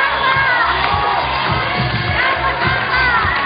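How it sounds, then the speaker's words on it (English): Spectators at a bouldering World Cup men's final in Vienna chant rhythmically to urge on a Japanese climber, a loud, repeated crowd chant with cheering voices that rises and falls in regular pulses. "Hear the gumbas from the crowd behind us."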